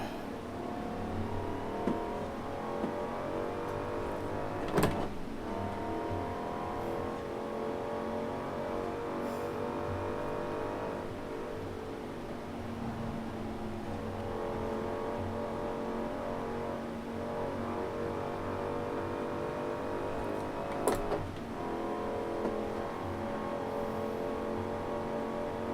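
A Hellcat-swapped 1969 Dodge Charger Daytona in Forza Horizon 4 drives steadily with the engine revving and droning through gear changes, its pitch rising and falling over a long stretch with no talking.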